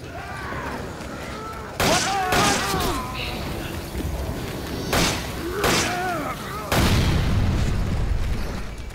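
Flash grenades go off in the video game Resident Evil 5, several sharp bursts and booms spread over a few seconds, mixed with game effects and voices.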